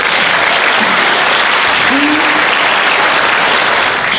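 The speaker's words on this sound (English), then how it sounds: "give her a round of applause" A school band showcase audience claps for a student assistant conductor, a dense, loud, continuous wash of applause filling the room.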